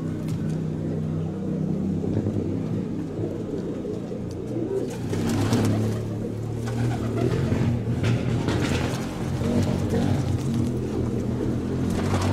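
Pigeons coo steadily at a pigeon club's flying festival in Volos, their low burbling calls layered over busy outdoor ambience with distant traffic, loud and continuous throughout.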